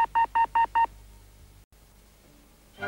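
Four quick, evenly spaced telephone keypad tones beep in a row, followed by faint line hiss and a short click.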